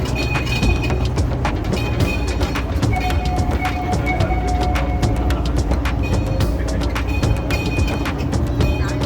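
A zoo train rolls along its tracks at steady speed, giving a continuous rumble with regular clicking beats and occasional faint bird calls in the background.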